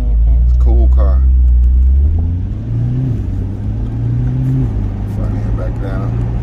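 A rear-engined convertible driving with the top off, its steady low engine rumble and tonal whine rising and shifting gear under the cabin, with people talking over it throughout.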